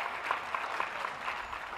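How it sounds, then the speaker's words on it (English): Audience applause at a dog show in Leeds for the hound group judge, a short stretch of steady, even clapping from a crowd at moderate distance. "Now, ladies and gentlemen, a big round of applause for our judge, Liz Cartledge"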